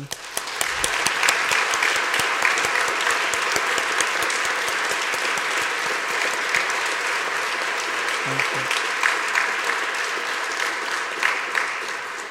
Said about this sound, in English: Can we give another round of applause to all of our veterans?